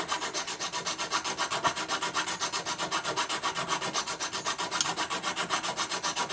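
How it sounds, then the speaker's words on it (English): A needle file rasps steadily back and forth over an air rifle part, a BSA Lightning XL SE, in fast regular strokes, close and loud with no talk. "these needle files, go along to the pound shop or wherever, they're not expensive"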